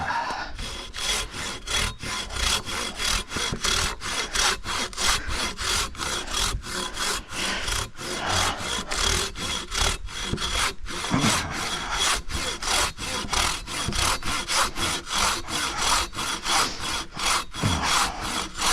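Old dead logs cut with a hand saw outdoors, a steady rhythmic rasp of back-and-forth strokes repeating evenly and close for the whole stretch, with no talking.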